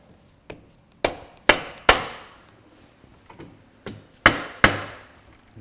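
Light metal taps on the input shaft of a BMW Airhead motorcycle gearbox during reconditioning: seven sharp, close knocks in an irregular pattern, three early in quick succession and two more near the end, each ringing briefly before fading.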